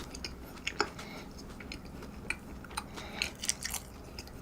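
Close, soft chewing of a McDonald's burger with small wet crunches and smacks, irregular and quiet, no talking.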